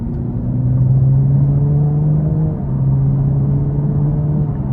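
The 3.6 V6 engine of a 2023 Chevrolet Camaro 3LT hums in a low, steady rumble under light throttle, heard from inside the car, dipping briefly midway before resuming.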